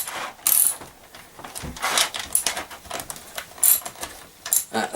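Hand ratcheting with a 1/2 inch socket wrench on the side bolts of a Ryobi 40V chainsaw, a series of close, quick clicking bursts with short pauses between strokes, no talking.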